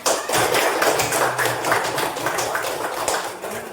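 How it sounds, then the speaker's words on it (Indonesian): A class of students applauding in a classroom: dense, steady clapping from many hands, fairly close, dipping slightly near the end. "terus tepuk tangan untuk semuanya"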